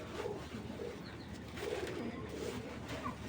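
Racing pigeons at a breeding farm give soft, repeated throaty coos in a steady rhythm, faint against a low background hum.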